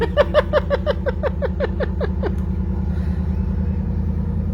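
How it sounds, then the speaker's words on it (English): Truck engine starting up with a rapid repeating starter whine that cranks about a dozen times, then settles into a steady low idling rumble, loud and close. "He's leaving in his truck."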